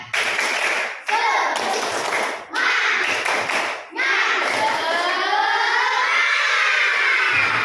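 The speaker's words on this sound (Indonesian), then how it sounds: "Tepuk semangat dulu biar semangat dong." Schoolchildren in an Indonesian classroom clap a rhythmic group spirit clap in quick bursts, close and loud, with brief pauses between sets of claps and children's voices mixed in.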